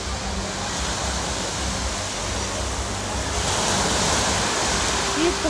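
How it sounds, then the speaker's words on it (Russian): Night sea surf breaking along the shore at a resort beach, a steady broadband wash of waves that swells slightly midway through, with faint background noise and no voices. "Такое море ночное."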